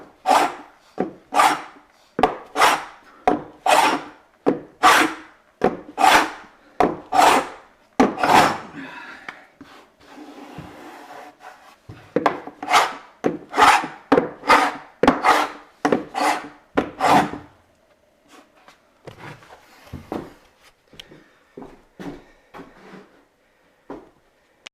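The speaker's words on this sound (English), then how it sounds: "save my sanding pads for finishing up this stuff, trying to level it." Old heart pine floorboards with paint residue being sanded by hand, rhythmic rasping strokes in quick bursts with short pauses between, close and loud with no talk.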